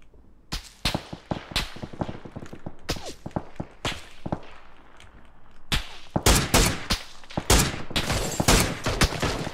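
Rapid bursts of gunfire ring out in a Thai online shooter match, sharp close shots in clusters with scattered footsteps between, growing denser and louder toward the end.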